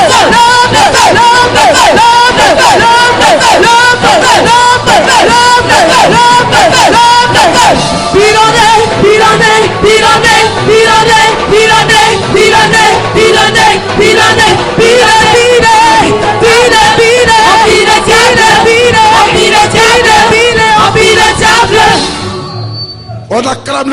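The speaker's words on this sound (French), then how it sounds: "On acclame le Saint-Esprit, s'il vous plaît." A church congregation at a deliverance service cheering, shouting and acclaiming loudly and continuously, a dense roar of voices that fades out near the end.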